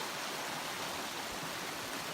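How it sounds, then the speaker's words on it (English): A big creek on the Ozark Highlands Trail flows steadily like a river, a loud, continuous broadband rush with no other sounds. "Big creek, like a river."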